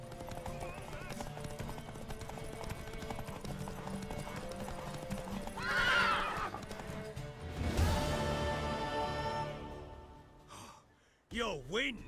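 A horse in the Witcher 3 video game trots with clip-clop hooves under music and dialogue, then a loud neigh bursts out near the middle, followed by fading hoofbeats and a short final whinny.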